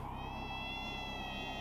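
Kitten meowing on a Homestuck loading screen, a sustained, tonal, slightly electronic-sounding mew held steadily throughout over a dense low hum, no talking.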